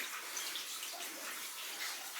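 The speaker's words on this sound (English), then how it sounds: "Probably fairly extensive since there's some water coming down." Water trickles and runs down inside an underground placer mine with very rotten timbers, a steady hollow splashing wash without speech.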